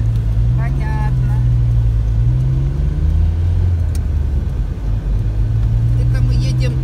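A car drives along a city avenue toward the airport, its steady low engine rumble and road noise running throughout while people talk inside the vehicle.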